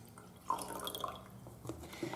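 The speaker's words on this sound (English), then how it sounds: "I'll just put a little bit of water in there." A little water is poured into a small container, heard as a brief, fairly quiet trickle with soft splashes and drips over a low background, with no one speaking.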